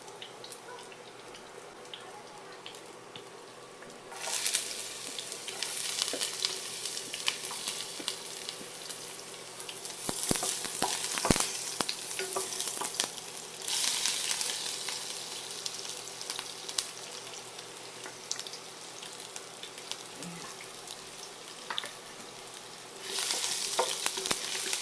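Onions sizzle steadily in a hot pan for sweet and spicy eggplant, with a continuous frying hiss that swells and fades as the pieces are stirred and scraped, plus occasional clinks, and no talking.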